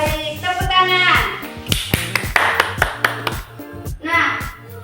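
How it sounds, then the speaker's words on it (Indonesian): A class of schoolchildren claps hands in a short burst of sharp, close taps, with children's voices before and after. "Baik, tepuk tangan."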